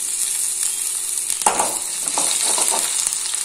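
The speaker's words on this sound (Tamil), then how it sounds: "இப்போ நம்ம garlic வறுத்து எடுத்துறலாம் ஆயில்ல" Garlic fries in hot oil for hotel-style chilli idli, a loud steady sizzle with a sudden burst of crackling partway through as ingredients hit the pan, then continued bubbling and spatter.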